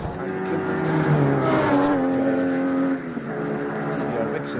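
Race cars, including a Lotus, roar around the Knockhill circuit during a Scottish Championship round, engines droning loudly and shifting pitch as they pass, under a commentator's voice.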